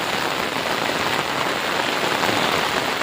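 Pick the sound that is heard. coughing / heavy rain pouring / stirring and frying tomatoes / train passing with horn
heavy rain pouring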